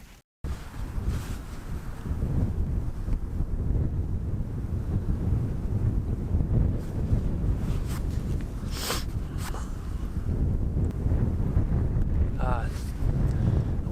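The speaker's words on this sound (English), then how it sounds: "The wind picked up again." Wind buffets the microphone in a continuous low rumble on open Wyoming antelope-hunting ground, gusting steadily for the whole stretch, with a few faint higher sounds breaking through.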